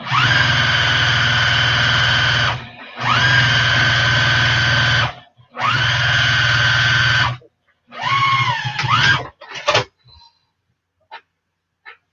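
A sewing machine stitching quilting lines on the back of a fabric advent calendar, three steady whirring runs of a few seconds each with short pauses, then a shorter uneven burst and a few faint clicks.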